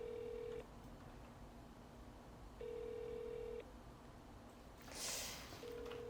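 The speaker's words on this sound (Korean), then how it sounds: "그래서 전화를 한번 해보겠습니다." A telephone call rings out unanswered, with a steady two-tone ring that repeats in one-second bursts separated by pauses. A brief rustle or breath sound falls between rings.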